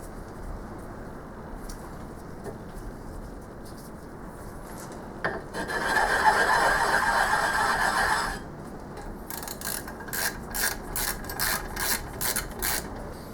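A quiet metallic scraping and grinding runs through, with a sustained rasping stretch and then a series of short repeated scrapes, close and fairly faint, as threads are tapped into blind holes without cutting fluid.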